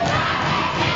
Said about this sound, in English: Is this capacity crowd in High Point, North Carolina, really telling Jordan Cage how they feel about him